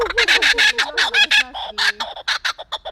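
A laughing kookaburra at Sacramento Zoo gives its loud, close cackling call: a rapid run of rising and falling hooting notes that breaks into choppy, staccato chuckles toward the end.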